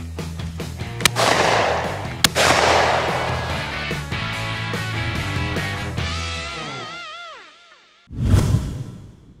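Shotgun firing Aguila 20-gauge shot shells outdoors, with two sharp, loud reports ringing out amid music and whooshing effects, then a final heavy impact burst near the end.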